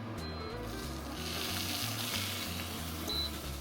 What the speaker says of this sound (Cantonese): 跟住我哋將豬皮向下放，一路 keep 住用個細火，慢慢咁煎脆佢